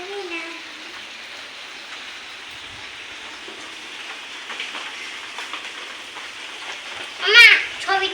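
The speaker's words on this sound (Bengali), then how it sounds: "আজকে ওয়েদারটা মেঘলা মেঘলা আকাশ, আর মাঝরাত থেকেই বৃষ্টি হচ্ছে।" Steady rain falls under a cloudy sky after a night of showers, an even wash of patter with a brief louder burst near the end.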